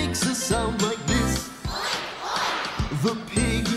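A singer imitates a big farm pig with snorting, grunting vocal oinks in a children's concert song, set over bright backing music and repeated in short bursts.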